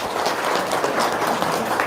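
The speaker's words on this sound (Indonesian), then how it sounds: "Tepuk tangan dulu" Audience applause after a comedic remark at a live Indonesian stand-up show, a brief, steady wash of many hands clapping at moderate level with no break.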